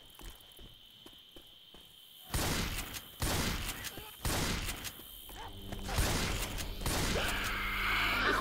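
Gunfire in the video game Hunt: a run of loud, sharp shots spaced roughly a second apart, growing denser toward the end over a steady background of game ambience.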